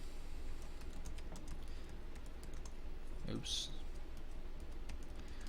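Someone types a question on a computer keyboard in a quiet room: soft, steady key clicks across the clip under faint background hum, with a brief louder noise partway through.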